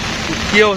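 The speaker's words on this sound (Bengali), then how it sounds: "হাতির ঝিলে পানি বেড়েই চলছে আর বৃষ্টি, অঝোরে বৃষ্টি পড়ছে।" Heavy rain pours at Hatirjheel lake in Dhaka during a cyclone, a loud, dense, unbroken hiss; a voice starts speaking over it near the end.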